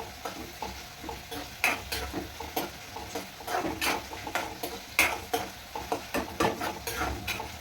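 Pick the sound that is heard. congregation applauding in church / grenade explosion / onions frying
onions frying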